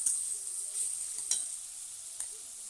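Spice mixture sautéing in a pan, a soft steady sizzle with faint stirring scrapes and a few small clicks.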